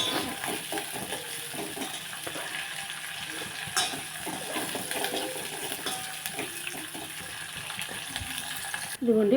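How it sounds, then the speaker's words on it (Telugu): Potato papads fry in hot oil, a soft continuous bubbling sizzle with scattered utensil clinks and stirring, fairly quiet and close, ending in a louder clatter. "దుంపప్పడాలు వేపుతాను."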